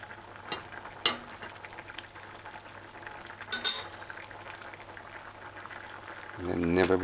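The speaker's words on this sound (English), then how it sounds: "Got all that cream bubbling." Cream and vegetables bubble in a pot on a stove set on high, giving soft, close popping and simmering with a few sharper clinks and a louder surge of bubbling near the end.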